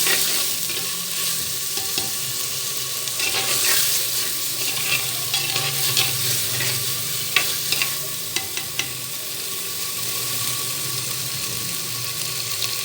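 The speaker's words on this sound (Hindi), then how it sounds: "3 अदद हरी मिर्चें, इनको भी अच्छे से फ्राई कर लेना है अदरक लहसुन को" Green chilies with ginger and garlic fry in a pan for katwa pilao, a steady close sizzle with intermittent stirring clicks and scrapes.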